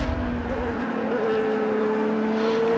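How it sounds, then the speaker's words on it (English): Peugeot race car lapping the Nurburgring circuit during a 1000 km endurance race, a steady engine drone holding one pitch, then a second tone sliding up and holding, heard continuously at moderate distance with no voices. "the number 8 Peugeot still comfortably out front, lapping with metronome precision around the Nurburgring circuit"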